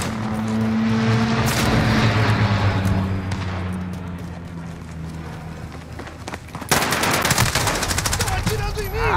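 AN-94 rifle gunfire in a Call of Duty match, loud sustained automatic bursts with engine rumble and battle noise, then a sharper burst of shots near the end.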